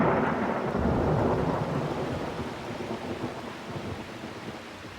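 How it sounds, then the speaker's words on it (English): A monsoon thunderstorm at night in Rajasthan, with a loud, sustained roll of thunder over steady heavy rain that fades slowly toward the end. "Under cover of darkness, the monsoon arrives in Rajasthan."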